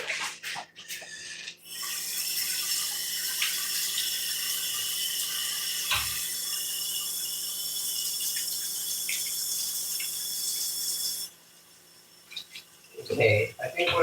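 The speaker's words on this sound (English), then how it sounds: "let me wash my hands" A tap runs steadily for several seconds while hands are washed under it, a close, continuous splashing hiss that stops abruptly, then handling noises follow.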